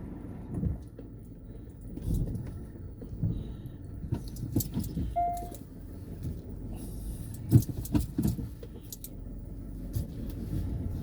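A car drives slowly along a muddy, sloping unsurfaced road near Sector 79, Gurgaon, giving a steady low engine rumble with scattered knocks and rattles from the body.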